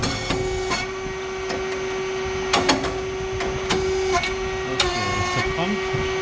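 A SYP8002 rice cake machine with a pump, three-phase motor, fan and mold cylinders runs with a constant motor hum, while sharp clacks and knocks recur irregularly over it from the moving mold.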